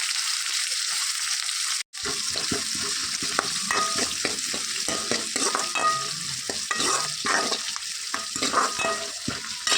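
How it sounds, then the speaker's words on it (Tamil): Chopped shallots with cumin, clove and bay leaf frying and being stirred in a pan, a steady close sizzle broken by repeated scraping stirs, alone with no talk. "நல்லா அந்த வெங்காயம் இந்த அளவுக்கு வதங்கணும்"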